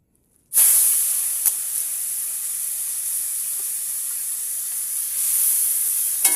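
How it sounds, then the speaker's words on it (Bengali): Chopped onion drops into hot oil left over from frying fish and erupts into a loud, steady sizzle that holds for several seconds with a slight swell near the end. "এবার এই ভাজা মাছের তেলেতেই আমি পেঁয়াজটা দিয়ে দিব।"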